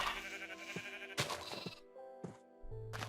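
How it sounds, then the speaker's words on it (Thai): Cute sheep bleat repeatedly in Minecraft 1.8.3, several short wavering cries in a row with harmonic tones, sounding close and loud against a quiet game background. "เราได้แกะน่ารักน่ารักมาแล้ว"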